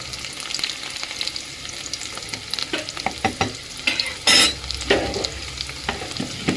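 Greens frying and being stirred in a home kitchen pan, with a steady sizzle broken by repeated scraping and clattering stir strokes and one louder burst of spitting near the middle, close and loud, with no talking.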